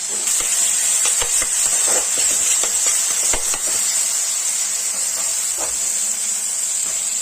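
A fish chorchori curry with a small splash of water just added hisses steadily in the pan, a constant close steamy sizzle with occasional faint clinks and scrapes.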